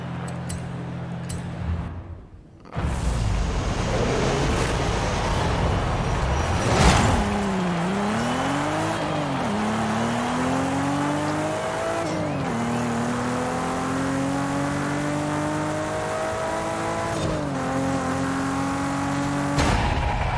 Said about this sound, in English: first with the sticky drag compound tires is the Supra